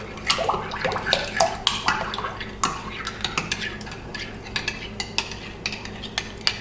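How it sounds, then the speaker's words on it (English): Eggs and milk are beaten by hand in a bowl for pancake batter, with quick irregular clicks and taps of the whisk against the sides, fairly close and steady throughout. "I'm just going to beat the eggs"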